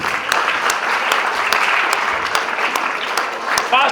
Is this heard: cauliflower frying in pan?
no